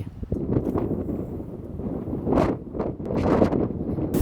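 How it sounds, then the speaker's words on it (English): Wind gusting hard against the microphone outdoors in New York City, rough buffeting roars that swell and fade in uneven waves, with louder bursts near the end. "Very windy day."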